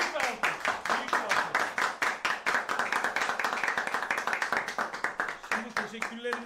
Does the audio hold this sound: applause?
yes